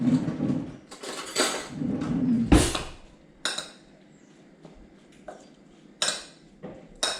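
Spoon tossing salad with dressing in a bowl, a run of scraping and clinking strokes against the bowl followed by scattered sharper knocks, close and moderately loud with no talking.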